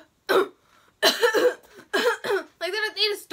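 A person's voice imitating someone coughing repeatedly: several short, harsh, close bursts separated by brief pauses, ending in a strained, voiced hack.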